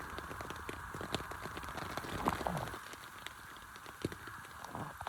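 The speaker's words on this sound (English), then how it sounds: "It's raining for quite a while." Steady rain patters on a small tent from inside, a dense close hiss of drops with scattered sharper taps, no voices.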